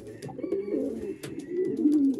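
Pigeons coo in a loft, soft low rolling calls repeating close by, with light flutters and small clicks from the birds in the background.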